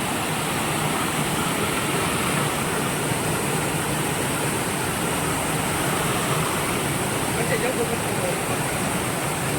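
Dense, continuous rushing of flowing stream water at a night crab-catching spot near Chiplun, loud and close with an unbroken broadband roar throughout; no talking stands out over it.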